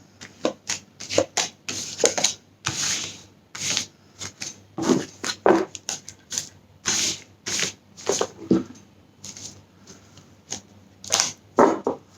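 Rapid riffling bursts of playing cards being shuffled, repeated in quick irregular flurries, close and crisp with no talking.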